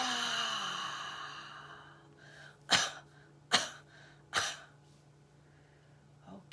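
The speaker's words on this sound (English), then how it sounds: "let's have a big cough at the end" Three sharp coughs spaced about a second apart during a yoga class, following a long breathy exhale, with a faint breath at the end; close and fairly quiet.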